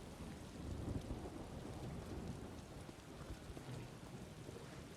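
Steady rain in The Elder Scrolls Online, a dense continuous hiss of falling drops with low rumbling underneath, like a distant thunderstorm, constant throughout.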